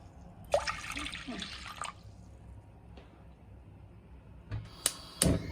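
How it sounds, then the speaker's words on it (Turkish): Cold water poured from a glass into a pot of rice for an oven-baked rice pudding, a short splashing burst near the start followed by quieter drips and a few clinks, close by. "Şimdi bir su bardağı kadar göz kararı soğuk su ekliyorum."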